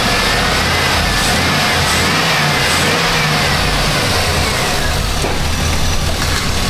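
A Chevy 2500HD truck engine with a running problem revs steadily nearby, a loud continuous mechanical roar that holds fairly even throughout with no voices.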